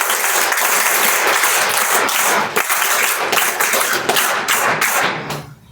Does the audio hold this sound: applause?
yes